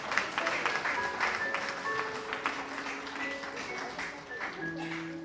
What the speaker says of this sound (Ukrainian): Друзі, давайте більше-більше оплесків за такі чудові вірші.